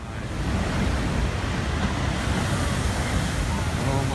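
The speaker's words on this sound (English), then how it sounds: "Storm Blanca unleashed massive waves in Cabo San Lucas" Loud, continuous roar of massive storm surf from Storm Blanca crashing and churning on a beach in Cabo San Lucas, broadband and steady with wind noise over the microphone, close and overwhelming.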